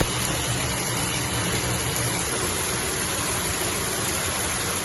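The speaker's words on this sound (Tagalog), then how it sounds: "ganito lang naman kalakas yung magiging pressure natin sa mga gripo" Water rushes from household faucets under pressure from a newly installed pump with an overhead drum, a steady, loud, unbroken hiss and gush with no voices.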